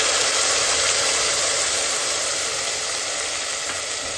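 Ground onion paste fries in hot oil with fennel and kasuri methi, giving a steady, loud, even sizzle that holds throughout with no voices.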